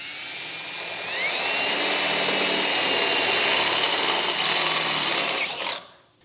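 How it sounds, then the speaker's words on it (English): A power drill with a 1/2-inch bit bores through a steel brace of a vehicle tow base plate, a loud, steady high-pitched whine that ramps up, holds for several seconds, then cuts off abruptly. "Now taking the same 1/2-inch drill bit, we're going to go ahead and make a hole through this brace here."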